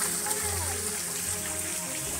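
A waterfall at Serra de Caldas Novas sends up a loud, steady rushing hiss of falling water, with a person speaking over it.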